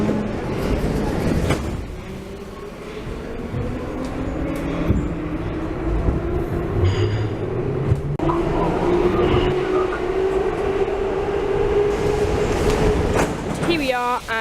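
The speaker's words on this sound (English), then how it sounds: "the only metro line in Budapest still to run the old Soviet age metro" An old Soviet-era metro train runs through a Budapest tunnel with a loud, steady rumble, rising and falling motor whine and rattling carriages, while people talk over it.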